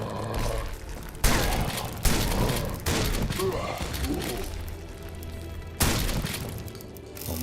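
A Lewis gun fires in the zombies mode of the video game SOE 64, producing several loud, abrupt bursts spaced a second or more apart over steady background game noise.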